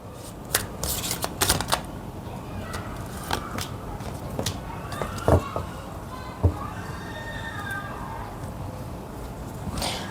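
Intuitive oracle cards being shuffled by hand, a series of quick crisp riffling and slapping bursts, close and moderately loud, spread unevenly through a quiet room with occasional soft thuds.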